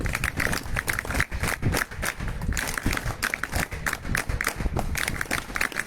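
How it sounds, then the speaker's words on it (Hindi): Students and guests at an NSS special camp closing ceremony at GMSSS Boys Rohru break into vigorous applause, a loud, uneven burst of many hands clapping close by that continues for several seconds with no talking. "मैं चाहूंगा एक बार जोरदार तालियां जेवीएन विजन टीवी के लिए।"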